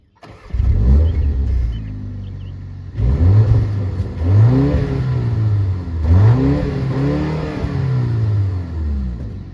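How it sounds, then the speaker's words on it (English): A 2025 BMW M235 Gran Coupe starts and revs repeatedly through its quad exhaust, deep note rising and falling in several loud, close bursts, settling into a rumbling idle between revs. "You will have quad exhaust right here. Let's hear what that sounds like."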